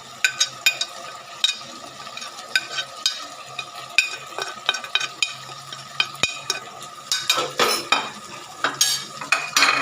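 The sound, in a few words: stirring cumin and coriander powder into chicken karahi gravy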